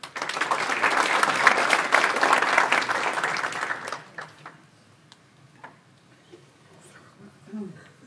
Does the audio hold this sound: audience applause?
yes